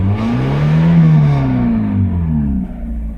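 A Mazda Miata engine idles steadily with a rebuilt alternator, its belt still a little tight and giving off a faint whine over the continuous, fairly loud engine drone.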